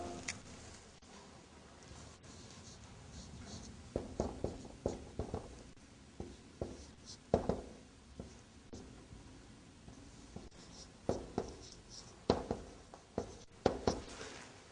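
Pen or marker strokes are written by hand during a lesson, heard as quiet scratchy strokes and taps in irregular groups over a faint room hum.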